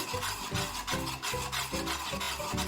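A spoon scrapes and stirs thickening gram-flour khandvi batter in a pan, giving close, continuous rasping strokes with a low, uneven churning rhythm.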